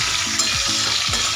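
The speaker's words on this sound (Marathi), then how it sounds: "अशा पद्धतीने तेलामध्ये मिरच्या टाकून घ्यायच्या." Stuffed bell peppers sizzle steadily in hot oil in a pan with turmeric, a close, continuous frying hiss with a few soft stirring scrapes and no talking.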